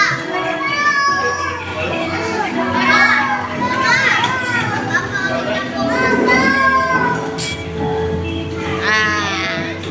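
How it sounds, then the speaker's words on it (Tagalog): Noisy children playing and shouting indoors at a family gathering, high excited voices and squeals overlapping one another, loud and close for the whole stretch, with little pause between outbursts. "Bakit maingay ang batang yan?"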